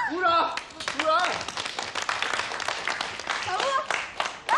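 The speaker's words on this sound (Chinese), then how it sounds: "鼓掌啊！ 鼓掌！ 鼓掌！" A small group claps at the introduction of a guest, a scattered round of applause running under overlapping voices that talk and call out throughout.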